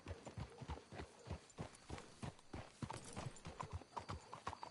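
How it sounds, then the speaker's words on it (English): Horses' hooves clip-clop steadily in a rhythmic walking gait in the Red Dead video game, loud and close, with an occasional faint whinny and no talk over it. "Let's hitch the horses up ahead."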